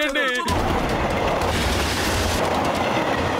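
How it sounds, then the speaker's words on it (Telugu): A runaway train with no driver comes on along the rails, a loud, steady rumble and clatter of wheels filling the scene after a brief burst of voice at the start. "ఆ ట్రైన్ వచ్చేస్తుంది సార్, రండి వెళ్ళి చూద్దాం."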